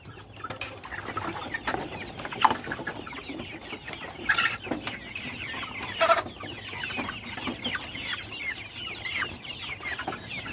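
About two hundred Joper chickens cluck continuously in a simple backyard coop, a busy overlapping chorus of short clucks close by, with no talk over it.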